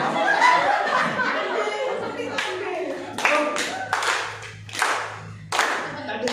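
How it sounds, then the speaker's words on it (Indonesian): A classroom group claps in short patterned bursts after a student presentation, the rhythmic hand claps mixed with light laughter and chatter between the bursts. "mari kita tepuk tangan"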